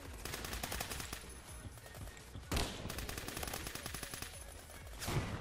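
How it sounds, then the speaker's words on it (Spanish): Rapid, sustained gunfire fills a Roblox Phantom Forces match, with a steady stream of shots broken by a couple of heavier blasts. It sounds close and loud, with no talking. "Un loco con una escopeta."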